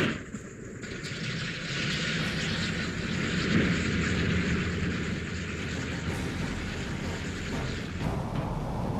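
Engines of a B-17 Flying Fortress bomber drone steadily in a loud, continuous roar that holds at an even level, with no talking.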